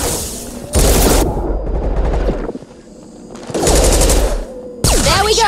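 Loud, close shotgun blasts and other weapon fire in the game Mass Effect 2, several booming bursts with short gaps between them.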